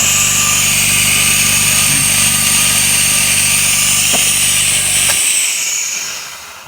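A Kanto 50-litre oil-free air compressor runs with a steady, loud mechanical drone and a high-pitched whine, then cuts off abruptly near the end, leaving only a fading hiss.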